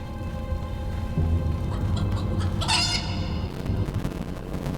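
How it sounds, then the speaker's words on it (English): Chickens in the video game Fable 3 clucking and squawking in a few loud bursts over low game music, close and clear with no talk. "And the killer monsters are... chickens? A chicken?"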